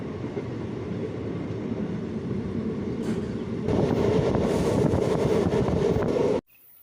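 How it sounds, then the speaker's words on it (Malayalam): A train pulls out of Cherukara railway station on the Shoranur–Nilambur line, its steady rolling rumble swelling louder partway through before cutting off abruptly near the end. "വണ്ടി ഇപ്പോൾ ചെറുകര റെയിൽവേ സ്റ്റേഷൻ വിടുകയാണ്"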